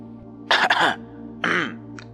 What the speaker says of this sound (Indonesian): Dari belakang suara batuk kecil terdengar.